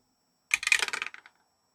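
A single die clatters briefly across a hard surface, a quick close burst of rapid clicks that bounce and fade within under a second, alone in a quiet room.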